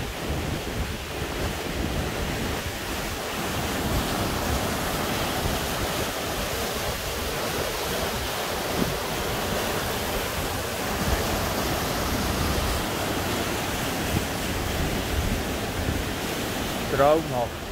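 Mountain stream rushing through the Gorges de Cavatanne near Ste-Croix, a steady broadband roar of water that stays loud and continuous throughout, with a brief faint voice near the end.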